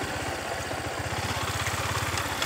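Motorcycle engine idling nearby with a rapid, even low-pitched thumping pulse, steady and uninterrupted with no talk.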